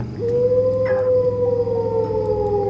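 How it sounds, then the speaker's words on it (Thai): A wolf in the video game Dude Theft Wars gives a long, wavering howl that rises and holds steady over a low droning background, with a brief higher yelp near the start. "มีเสียงหมาป่าด้วยเนี่ย"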